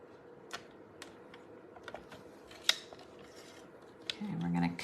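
Scissors cut cardstock for a handmade card with stamps and flowers, giving sparse crisp snips and small clicks close by over a low background hum, with a louder rustling stretch near the end.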